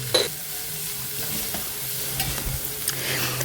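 Onion and ash gourd sizzle steadily in hot oil while a spoon stirs through them, with a scrape or clink near the start and soft stirring scuffs over a constant close frying hiss.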